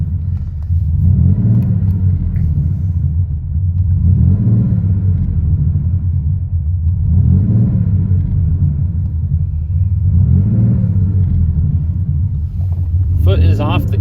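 Porsche engine with a suspected bad O2 sensor, revving in slow repeated swells about every two seconds over a loud, steady, close rumble, with talking near the end.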